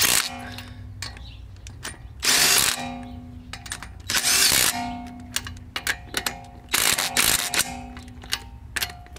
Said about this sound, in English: I'm just using my cordless impact driver to lug nuts in.